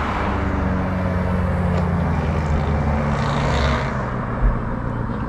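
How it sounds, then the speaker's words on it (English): Dense, loud road traffic rumbling continuously beside Riverwood Conservation Area in Mississauga, a steady wash of passing vehicles with one vehicle swelling past close by near the end. "There's a lot of traffic and it's pretty loud"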